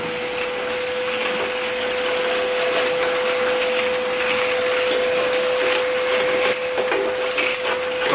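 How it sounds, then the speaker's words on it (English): A Milwaukee backpack vacuum cleans debris out of a lawn mower deck, giving a loud, steady motor roar with a fixed whine and airy suction noise that never lets up, close up, with no talk. "now a guy's going to take his Milwaukee backpack vacuum and try to clean up some of the debris in here"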